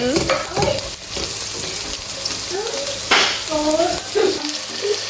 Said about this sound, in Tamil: நான் இப்போ தக்காளி பழத்தையும் இதோட போட்டு அப்படியே வதக்க போகிறேன்